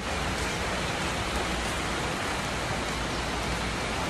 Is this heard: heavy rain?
yes